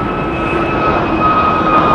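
Airplane passing at an international airport in Germany: a loud, steady engine roar with a whining tone, close by and continuous throughout.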